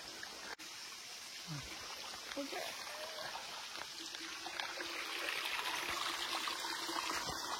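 Water trickles and streams steadily into a rock pool at Aluru Kona, a soft continuous flow with voices talking over it.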